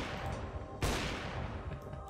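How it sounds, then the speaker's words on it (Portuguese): A single sharp gunshot from a Counter-Strike (CS:GO) match, a brief broadband burst standing out once against steady low game noise. "Olha esse tiro que eu acertei no CS"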